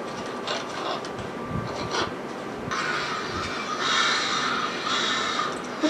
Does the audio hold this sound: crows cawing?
yes